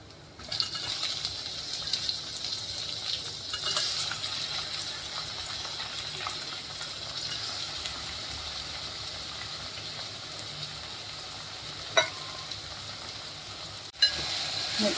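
Tomatoes hitting hot oil with roasted masala for rasam give a steady, even sizzle that holds throughout, with two sharp clicks near the end.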